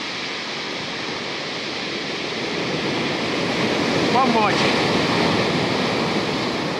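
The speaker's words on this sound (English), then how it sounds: "it's just some weird waves, you know, they come around the big boom, sweep up and they're sucking the line back" Ocean waves break on a winter beach near a breakwater, giving a steady, loud rushing surf with wind buffeting the microphone while someone speaks briefly.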